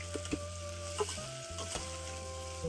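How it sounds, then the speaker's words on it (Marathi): Vegetables sauté with a garlic, ginger and coriander paste for masala khichdi, making a soft, steady sizzle broken by a few light stirring clinks against the pan, with no talking. "3 ते 4 मिनिटं सगळ्या भाज्या चांगल्या मऊ होईपर्यंत परतायचं"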